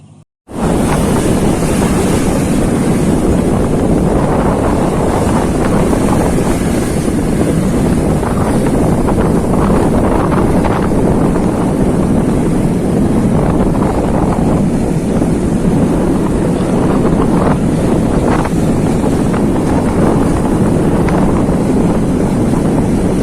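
A boat crosses the Java Sea, wind buffeting the microphone and waves surging around the hull in a constant loud roar that goes on without pause or speech.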